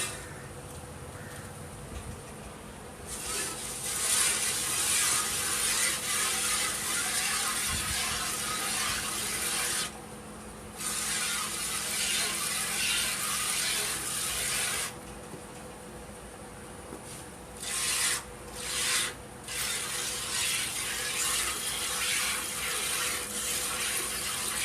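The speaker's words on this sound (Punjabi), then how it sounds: "ਹੁਣ ਚੁਆਈ ਇਹਦੀ ਵੀ ਕਰਨੇ ਆ" A buffalo is milked by hand into a pail, with long stretches of hissing milk streams broken by brief pauses and a few short spurts near the end.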